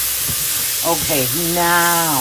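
Green beans and pork hocks sizzle in a hot pan, a steady close frying hiss running beneath a brief spoken phrase.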